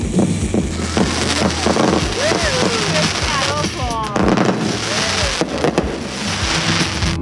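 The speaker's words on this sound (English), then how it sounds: "My beautiful wife and her family have a legacy of fireworks, responsibly blowing shit up there." Fourth of July fireworks in Wyoming burst and crackle steadily with whistling rockets, a dense barrage of bangs and wind-buffeted noise throughout, loud and close.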